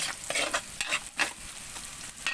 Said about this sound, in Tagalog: Igisa po muna natin yung tangkap